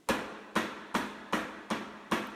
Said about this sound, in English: What I do is push that into the front of the drawer and just hammer it in